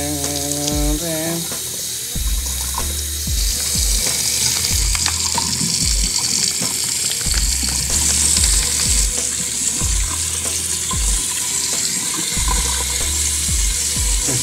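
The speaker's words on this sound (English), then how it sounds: "It's draining, and I'm running some cool water over it." Cool tap water runs steadily over hot pasta draining in a kitchen sink, a constant hissing rush with occasional knocks and clatters beneath it.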